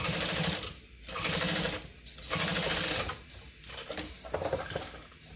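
A home sewing machine stitches a seam on a Dayna Pack bag at a 5 stitch length with a 1/8 inch seam allowance, running in steady bursts of rapid mechanical clatter separated by brief pauses, loud and close.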